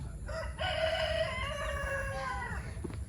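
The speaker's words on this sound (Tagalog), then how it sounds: "narinig na akong manok" A single rooster crows on a farm, a long drawn-out cock-a-doodle-doo with a rising then sustained call, fairly clear over steady outdoor background noise.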